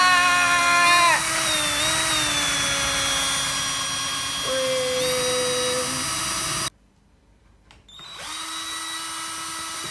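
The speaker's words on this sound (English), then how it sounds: "you want to just drill a hole in like this" A power drill drilling holes for a bug hotel whines loudly at a steady pitch, shifting tone as it bites, stops abruptly for a second of near silence, then spins up again.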